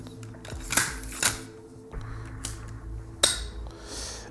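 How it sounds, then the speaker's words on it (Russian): A Blaser R8 Long Range GRS rifle has its bolt slid back into place, giving several sharp metallic clicks and clacks, close and distinct, amid quieter handling noise. "После этого ставим затвор"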